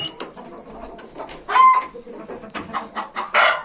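Chickens and a rooster cluck close by in irregular, squawking bursts, with a few louder shrill calls standing out among the softer chatter.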